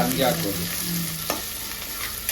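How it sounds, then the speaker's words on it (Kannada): Garlic frying in a pan for a gongura gravy, a steady broadband sizzle with a brief stir or scrape near the start and a soft clack midway, close and continuous with no talking. "ಬೆಳ್ಳುಳ್ಳಿ ಹಾಕ್ತಾ ಇದ್ದೀನಿ"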